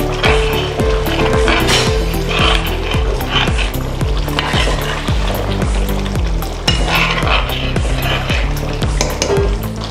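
Spices are stirred into frying chicken masala in a pan, with loud, close, regular scraping strokes in a steady rhythm over a continuous sizzle.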